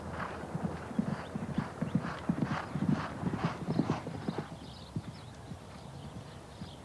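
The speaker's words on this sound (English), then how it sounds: "Lots of horses there, aren't there?" Horses exercising on sand early in the morning trot past with a steady, quick clip-clop of hooves that swells and then fades, with a brief whinny among the hoofbeats.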